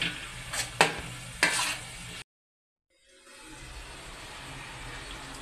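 Coriander and curry leaves hit a hot pan of oil for a Konaseema-style pond fish curry, giving a steady sizzle with a few sharp stirring bursts, then a brief cut to silence before the frying hiss resumes.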